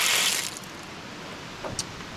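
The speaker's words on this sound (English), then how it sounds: "I turned the water back on." Tap water gushes as the supply is switched back on in a small shed-to-house conversion, a loud burst at first that settles into a steady running flow with a couple of brief splashes.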